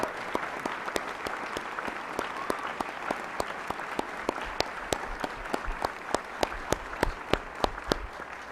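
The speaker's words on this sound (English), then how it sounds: "stand for a round of applause." A high school graduation audience gives a round of applause, dense steady clapping from a large crowd with some sharp individual claps standing out near the microphone, loud and sustained across the whole stretch.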